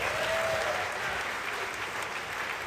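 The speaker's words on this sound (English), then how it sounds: "Another round of applause for all these great students." A crowd at an annual meeting and dinner applauds students, dense sustained clapping filling the room at moderate volume with no talk over it.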